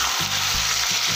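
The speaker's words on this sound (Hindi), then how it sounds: "चिकन को फ्राई करते हुए दो मिनट हो चुके हैं" Chicken pieces fry in a pan for chicken handi, giving a loud, dense, continuous sizzle with a few soft knocks of stirring underneath.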